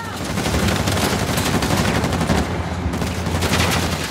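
Dense, sustained gunfire from the video game Uncharted: The Lost Legacy, loud bursts of rapid machine-gun shots and a steady barrage running the whole time without a pause, a few voices faint beneath.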